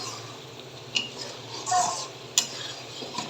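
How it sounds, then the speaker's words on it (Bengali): Mustard oil and spices for a dried fish curry being stirred in a pot, soft scraping with a few sharper metal knocks and a faint sizzle underneath, quiet and close. "এই যে এখন তেল আর মশলা একসাথে আবার মাখো মাখো হবে আর কি"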